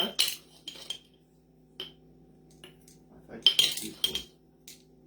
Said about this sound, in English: So there's 1 tablespoon of canning salt per jar.